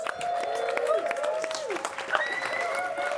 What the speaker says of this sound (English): Let's give Carla a massive round of applause